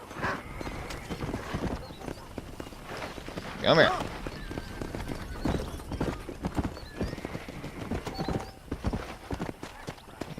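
Horse hooves clip-clop on and off in Red Dead Redemption 2, with one loud whinny near the middle, while someone speaks a few words.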